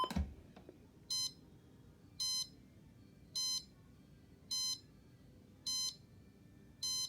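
An Emerson CKS1708 SmartSet alarm clock beeps in six evenly spaced bursts, each a quick cluster of high electronic tones, with short silences between them.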